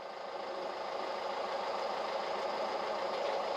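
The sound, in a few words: boat engine running in reverse gear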